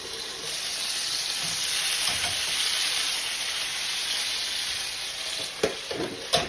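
Sausage links fry in a pan with a loud, dense, continuous sizzle and hiss, and a few knocks from handling near the end.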